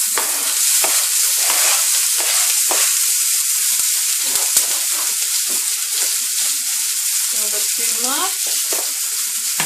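Tomatoes sizzle steadily in preheated olive oil in a pan, with a dense, continuous frying hiss broken by repeated scrapes of a spoon stirring them; a voice briefly speaks partway through.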